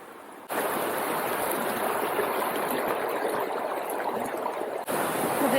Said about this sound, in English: The water is just going everywhere, not just in one riverway.